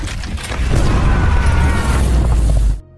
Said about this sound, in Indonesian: lambung meriam yang retak membuat ledakan yang begitu dahsyat